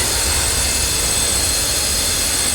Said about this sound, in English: Love the engines on this thing.